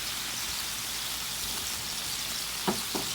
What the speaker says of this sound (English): Throw our onions in there and get them caramelizing.